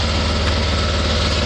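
A polishing wheel spins against an aluminum hub gasket surface from an FJ62, a loud, steady, close motor whine with a dense grinding hiss and no talk.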